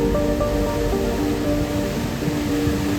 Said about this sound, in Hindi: इतना तेज पानी ऊपर से आ रहा है